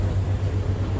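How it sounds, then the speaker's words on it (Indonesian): Interior of the Yogyakarta airport train, a steady low rumble and hum with broadband noise filling the cabin, constant and moderately loud for the whole second. "Kayak inilah suasana di dalam kereta bandaranya"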